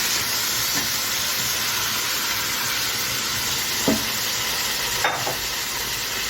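Grated tomato fries in a pan with white beans and black-eyed peas, hissing in a loud, constant sizzle close by, with a few faint scrapes from stirring. No one speaks.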